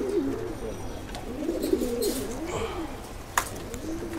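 Pigeons at a pigeon farm coo in soft, repeated rolling phrases, close by, with a couple of sharp clicks or flutters and faint background noise.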